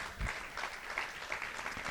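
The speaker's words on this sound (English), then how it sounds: "The response from them was about as tepid as that applause." A small audience gives scattered, tepid applause at a Sunday afternoon rally against antisemitism in Australia, a thin, moderately distant patter of claps that stays even without building.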